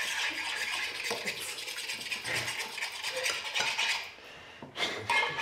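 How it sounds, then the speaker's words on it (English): Eggs whisked for an omelette, a fast continuous metallic scraping and rattling of a utensil against the vessel, close and steady, ending in a few louder clanks with no talking. "Now I have to whisk it a bit."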